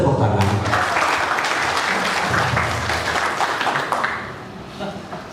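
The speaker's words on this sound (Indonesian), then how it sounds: "Boleh tepuk tangan." Audience applause at a 2014 Indonesian community meeting for handing over PPMK funds: a dense, sustained round of clapping that stays steady and then thins slightly near the end, with voices mixed in underneath.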